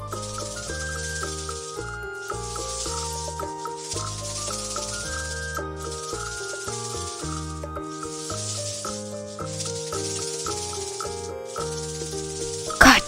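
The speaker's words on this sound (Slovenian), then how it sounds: "Kača." A snake's dry hissing rattle sounds in repeated bursts over a steady musical backing with tonal notes, and a brief sharp sound closes the sequence.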